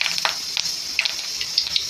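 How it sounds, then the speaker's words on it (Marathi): Curry leaves dropped into hot oil in a kadhai for a Maharashtrian fish curry crackle and splutter steadily, with scattered sharp pops over a continuous hiss, close up. "तेल तापलं, आता मी कढीपत्ता टाकते"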